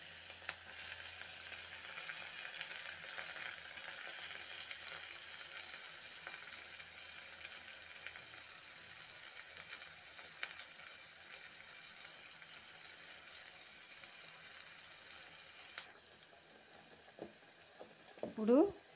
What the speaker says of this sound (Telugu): ఆయిల్ కాగిందండి. ఇప్పుడు మనం తరిగి పెట్టుకున్న ఉల్లిగడ్డని వేసుకోవాలి.